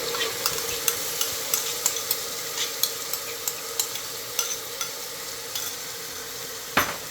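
Tomatoes and ground ginger-garlic paste fry with browned onions in a pan for white chole, a soft continuous sizzle punctuated by regular spoon scrapes and taps, ending with a sharper knock.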